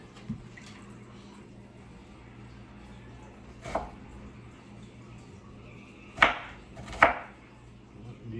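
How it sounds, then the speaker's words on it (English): A kitchen knife chops yellow onions on a cutting board. Three sharp, close cuts come at irregular intervals over a quiet background, and the first is softer than the last two. "Now I'm gonna cut up my yellow onions"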